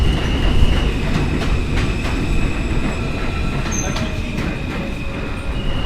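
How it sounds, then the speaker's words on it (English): A New York City G subway train rumbles past with a second train running at once, a loud continuous roar with steady wheel clatter and high metallic squeal, close and unbroken throughout. "Oh, here comes another train."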